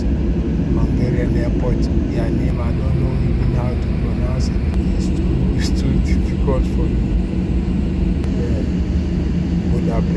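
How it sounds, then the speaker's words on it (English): A passenger airliner taxis out toward the departure runway on a flight from Amsterdam Schiphol to Budapest, its engines a loud, steady rumble and whine throughout, heard from inside the cabin. "At this moment, we are taxiing out to our departure runway."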